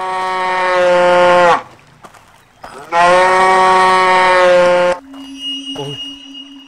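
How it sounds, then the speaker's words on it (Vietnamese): A cartoon cow moos in distress, two long, loud, drawn-out bellows separated by a short pause, followed by fainter higher sounds. "sao lại có tiếng bò kêu thảm thiết quá"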